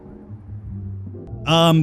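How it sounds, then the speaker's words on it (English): Sirens from the video game Do Not Feed The Monkeys 2099 rise in loud at the end, a bright wailing tone arriving suddenly after a stretch of low game background. "In case you're wondering about the sirens, for once it's actually not outside of my hood. It's part of the game."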